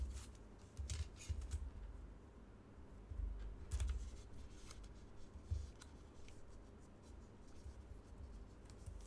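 Origami paper is folded and creased by hand for a Yoshimura tessellation lantern, giving soft, close crinkling and brushing rustles in short bursts with brief pauses, and no talking.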